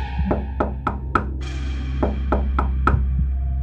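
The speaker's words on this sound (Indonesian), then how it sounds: "terbangun karena mendengar suara ketukan pintu" Knocks land on a door in two evenly spaced groups of four, with a short pause between the groups. They are clear and fairly close, over a low steady hum.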